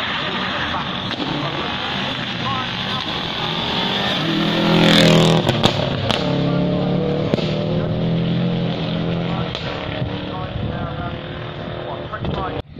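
A classic Austin-Healey driving up the Shelsley Walsh hillclimb, its engine note rising and growing loud as it passes close by, with a voice talking over it.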